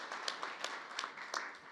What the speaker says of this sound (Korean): 전정희 의원님 박수로 환영해 주시면 고맙겠습니다